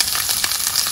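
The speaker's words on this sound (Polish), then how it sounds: "Na patelnię wylewamy oliwkę i od razu przerzucamy warzywa." Mixed vegetables tossed into hot olive oil in a frying pan for an Italian meat and bean stew, a brief, bright, continuous sizzle heard up close with no talking.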